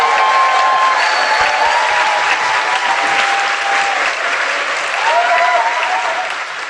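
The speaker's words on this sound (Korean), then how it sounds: "우리 스태프 여러분들께 큰 박수 좀 부탁드리겠습니다." A studio audience bursts into steady, sustained clapping for the crew, dense and close, holding level for several seconds with a faint murmur underneath.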